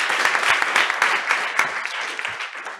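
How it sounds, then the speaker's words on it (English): Audience applause at a financial education institute session, a dense burst of clapping from a room full of attendees, steady and fairly loud throughout without any speech. "please give another round of applause to the speaker today"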